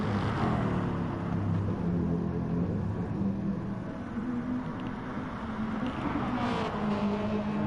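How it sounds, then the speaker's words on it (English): Race cars in a racing video game pour through a forest section toward the end of the lap, giving a steady, dense engine roar with layered revving and passing tones and no pauses. "There's a lot of cars going through the forest section and towards the end of the lap"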